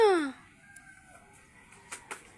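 A rooster crows once loudly at the start, its call rising and then trailing off, followed by quiet background and a couple of soft knocks.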